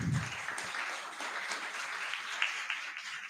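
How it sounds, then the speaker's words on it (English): Applause after a conference presentation, a soft, distant wash of clapping from a modest audience lasting a few seconds with no talk over it. "Please give them a round of applause."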